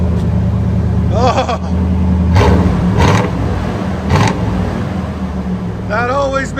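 A Chevy 1500 with a 5.7L V8 and an aftermarket exhaust with 2 1/4 inch tailpipes and 3.5 inch angle-cut tips idles with a steady low rumble and several short revs, with voices heard over it.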